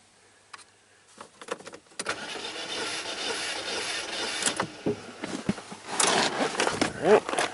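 A 2009 Chevy Cobalt engine cranks during a mechanical compression test, following quiet handling noises. Uneven whirring bursts run at moderate volume from about two seconds on, with a brief spoken remark.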